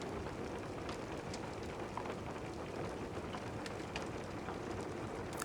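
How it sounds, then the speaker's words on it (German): Steady rain patters on the roof of a wooden mountain hut, a dense, even hiss of drops with occasional sharper taps, continuous and fairly soft throughout. "Prasseln des Regens, der auf das Dach der Holzhütte fällt"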